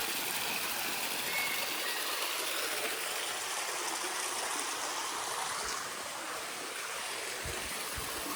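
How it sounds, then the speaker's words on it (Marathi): Water from seven streams pours steadily into a stone tank at Sapteshwar temple near Sangameshwar, a constant rushing, splashing flow heard at moderate distance with no voices. "पूर्ण हा सात प्रवाह इथे एकवटले जातात आणि या कुंडात पडतात"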